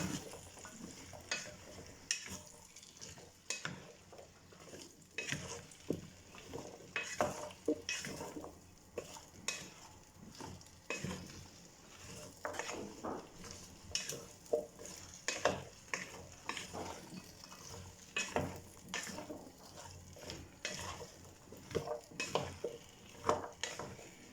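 Small chopped pumpkin and vegetables for soup sautéing in a pot, with steady sizzling and repeated stirring scrapes and clinks throughout, close and moderately loud, no talk.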